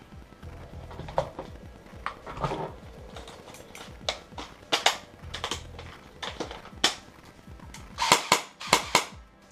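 An airsoft rifle with a Lancer Tactical gearbox on an undercharged battery fires close by in sharp, irregular single shots and short bursts of crisp mechanical cracks, with the final shots coming louder and faster.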